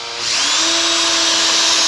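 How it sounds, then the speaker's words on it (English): A power drill spins up and then whines steadily, loud and close, as it bores holes in the floor of a Dodge Dart Swinger 340 during a bench-to-bucket seat conversion. "Man, if you're ready to drill that sucker."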